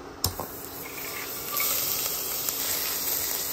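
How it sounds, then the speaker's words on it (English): Butter and onions sizzling in a pan for a mop sauce on a rib cook, a steady soft hiss with a sharp click near the start and a slight rise partway through, no talking. "Just sweat those onions down and melt that butter"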